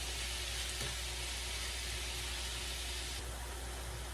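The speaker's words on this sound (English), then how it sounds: "And we're stir frying" Chicken, shrimp and cauliflower stir frying in a hot pan, a steady broad sizzle heard close and continuous with no talking, slightly brightening toward the end.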